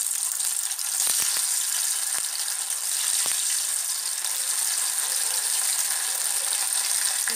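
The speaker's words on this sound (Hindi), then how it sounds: "इस तरह से इनको फ्राई कर लेंगे।" Soya chaap pieces fry in hot oil with a steady, close hiss and crackle, a few sharp pops early on, and no voice over it.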